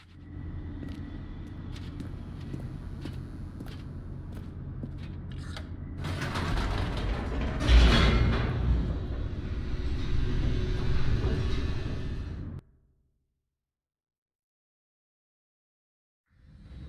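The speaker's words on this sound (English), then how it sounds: "The elevator raced downward, plummeting towards an unknown fate." An elevator races downward in The Stanley Parable: a steady mechanical rumble with creaks and clanks, swelling louder and busier midway before cutting off abruptly to silence, then a faint return at the end.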